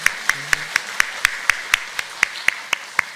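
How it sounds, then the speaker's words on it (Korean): A church congregation claps at a Sunday morning service: about thirteen sharp, evenly spaced claps in steady rhythm, moderately loud and close. "하나님께 박수를 한번 드립니다"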